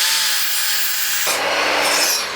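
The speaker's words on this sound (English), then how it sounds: "the saw blade is going to want to pull the wood inward" A saw cuts through a 2x4 piece of wood, a close, loud, steady rasping whir that deepens and roughens partway through as the blade bites into the board.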